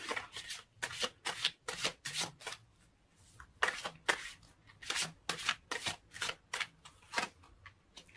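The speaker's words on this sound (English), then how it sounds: "So let's pull more cards and see." Tarot cards are shuffled and pulled by hand, a quick run of crisp riffling bursts and papery flicks, close and rhythmic with a short pause midway.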